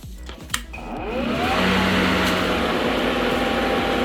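Craftsman brushless electric lawn mower motor started with the key, a few clicks and handling noises before a steady high whirring hum spins up and holds loud and continuous.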